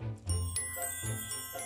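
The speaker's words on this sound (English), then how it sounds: "That was the sound of the magic story drawer." A faint, quick magical chime from a children's story drawer, a few bright tinkling notes ringing briefly one after another, heard on their own.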